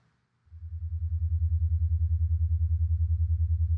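Low binaural alpha-wave tone pair fading in after a moment of quiet, then pulsing steadily with a fast, even beating of several throbs per second, loud and alone.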